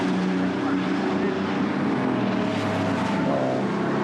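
A racing car roars past on a British motor-racing circuit during a race, its engine a loud, steady, continuous drone that fills the whole stretch without fading away.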